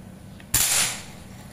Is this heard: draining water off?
no